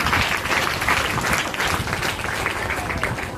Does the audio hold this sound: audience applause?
yes